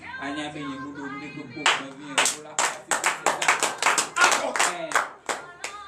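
Scattered hand clapping starts after a voice, growing into a brief round of applause from a small group at a morning prayer service in Benin.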